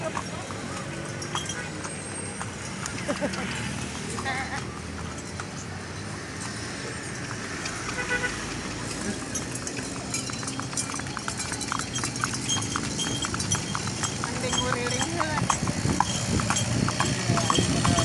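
Horse hooves clip-clop steadily as a delman, a horse-drawn cart, rolls around Kuningan, the rhythmic clatter running throughout beneath traffic noise and passengers chatting in the foreground.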